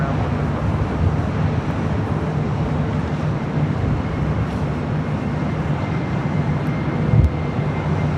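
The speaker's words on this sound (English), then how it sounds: "767-300ER coming in from Louisville, making that left-hand turn onto Alpha 7." A Boeing 767-300ER in from Louisville taxis at LAX, swinging left onto taxiway Alpha 7, a steady broad jet engine rumble holding close and even throughout, with a brief louder swell near the end.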